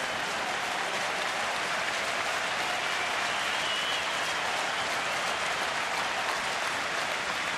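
A baseball crowd of Phillies fans applauds at a stadium game, a steady, dense wash of clapping that holds evenly from start to finish without a voice over it.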